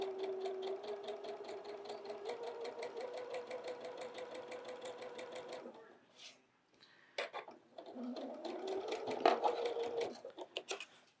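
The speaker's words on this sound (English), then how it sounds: "So we'll sew this corner to corner." Sewing machine stitching a quilt block corner to corner, a steady rapid mechanical whir for several seconds, then a short pause and further bursts of stitching with light clicks.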